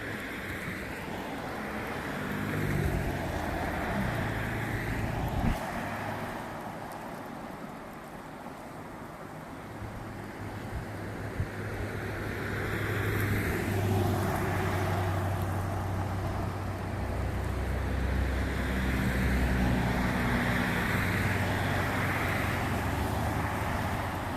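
Road traffic rolling past a roadside bench, a steady wash of passing vehicles swelling and fading as cars go by, with wind-like rumble and no talk.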